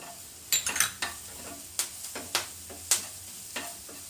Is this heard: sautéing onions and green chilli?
yes